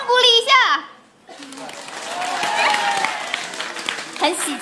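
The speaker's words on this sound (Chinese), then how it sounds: "大家掌声鼓励一下" Audience applause with some cheering at a live stage show, a Team SII special performance, rising after a brief lull and sustained steadily for several seconds, following a short burst of a woman's excited speech at the start.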